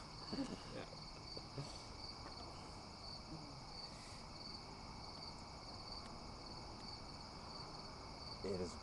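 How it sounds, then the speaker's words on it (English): Crickets chirp steadily outdoors on a calm night, a thin high trill pulsing evenly throughout, faint and distant with soft background hiss and no one speaking. "The crickets"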